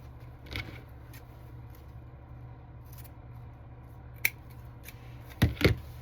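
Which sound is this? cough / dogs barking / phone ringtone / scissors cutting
scissors cutting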